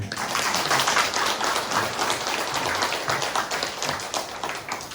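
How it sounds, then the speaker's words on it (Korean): Church congregation of deaconesses clapping during a Sunday morning service, a dense, even patter of many hands at moderate level that continues steadily through the whole stretch with no talk over it. "우리 권사님들이 뭐 박수 좀 쳐줄까요?"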